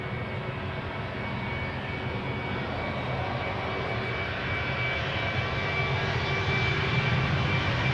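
A Suparna Airlines aircraft at Schiphol's Polderbaan runway produces a steady, sustained engine roar with a faint tonal whine, slowly growing louder as it approaches, with no voices.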